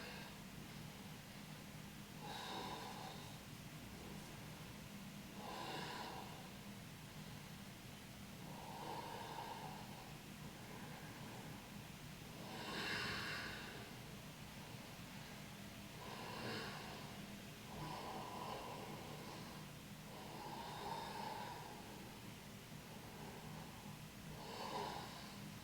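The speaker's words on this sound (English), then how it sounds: "Deep breathing here, and 10 deep breaths" Slow deep breathing during a spinal ELDOA exercise, about three seconds in and three out, faint close-up breaths repeating in a steady rhythm against a low hiss.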